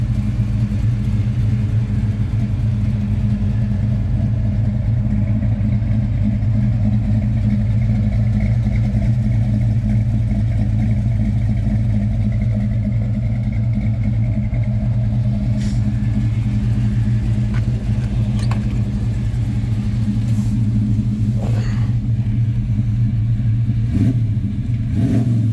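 A 1985 Chevrolet C10 Silverado pickup driving, its engine droning in a steady loud low rumble throughout, with occasional faint clicks and knocks near the end and no talking.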